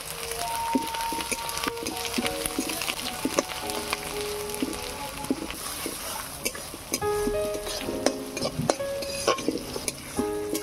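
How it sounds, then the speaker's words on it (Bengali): Ginger-garlic paste and onion fry in a pan for a Bengali katla kalia, giving a steady sizzle broken by frequent stirring scrapes and clinks against the pan, with no one speaking. "আদা রসুন পেঁয়াজটাকে লাল লাল করে ভেজে নেব।"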